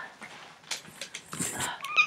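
A cat makes a short burst of erratic, scrabbling and vocal-sounding noises during a food box unboxing, several quick bursts at moderate volume over about two seconds, with a brief higher squeak near the end.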